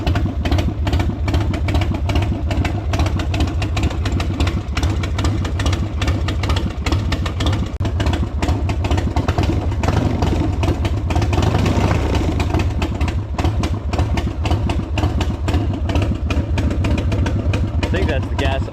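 A 1999 Buell X1 motorcycle's engine runs and idles loud and close with a steady rumbling throb, and a voice is heard speaking over it.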